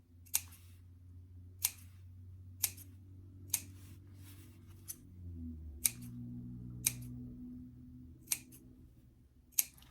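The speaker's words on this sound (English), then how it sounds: "So I'm going to clip it first, being careful not to clip the seam that I just sewed." Scissors snip fabric toward the sewn seam of a wide-brim doll hat: about nine crisp, evenly spaced cuts, close and distinct, over a steady bed of soft background music.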